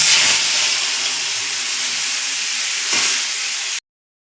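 Hot tempering of cumin, bay leaf and dried chili hits a pot of chickpea dal with a loud, close, rushing sizzle that fades slightly, swells briefly, then cuts off abruptly.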